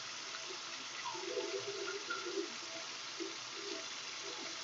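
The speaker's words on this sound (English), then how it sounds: "I'm going to wash my wrists first." Water runs from a tap while wrists are rinsed at a sink, a soft continuous splashing stream with gentle irregular sloshes, fairly quiet and steady throughout.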